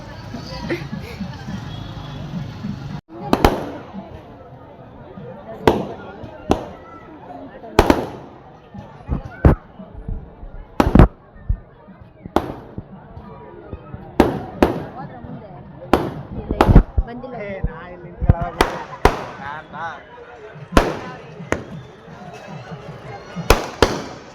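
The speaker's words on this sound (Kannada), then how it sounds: "ನೋಡಿ ಫ್ರೆಂಡ್ಸ್ ಪಟಾಕಿ ಹೊಡಿತಾ" Firecrackers burst at a temple fair in quick, sharp cracks, about a dozen scattered irregularly over a steady crowd hubbub, some loud and close, others fainter.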